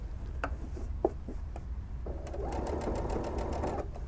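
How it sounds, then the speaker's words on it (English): Sewing machine stitching ribbing onto a sweatshirt, a faint indoor recording with a few soft clicks and handling taps, then the motor whirring in a steady rapid stitch run. "I'm picking it up from the bottom because I want to make sure I don't stitch all the way through the back side of the sweatshirt"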